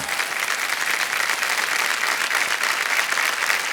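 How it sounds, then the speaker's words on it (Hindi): Studio audience on Kaun Banega Crorepati applauds a contestant, steady dense clapping from a large crowd filling the whole stretch at even loudness. "तालियां बजते रहे विमल जी के लिए।"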